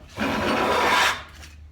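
Stanley No. 4 hand plane taking a full-width shaving off a pine board on a workbench, a single smooth rasping stroke lasting about a second, close and clear, followed by quiet.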